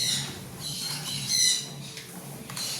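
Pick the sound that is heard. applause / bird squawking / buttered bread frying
bird squawking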